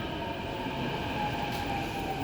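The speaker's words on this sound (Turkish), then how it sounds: "şu an biz metro bekliyoruz" A metro train rumbles steadily through a station, a continuous loud roar with a faint whine and no pauses, heard close by while passengers wait on the platform.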